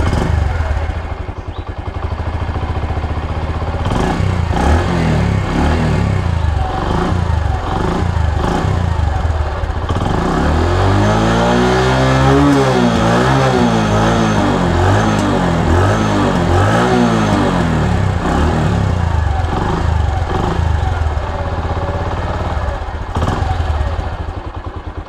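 A Bajaj Platina 100 ES motorcycle engine runs steadily up close, then revs up and down through its middle stretch with a rising and falling tone, before settling back to a loud idle.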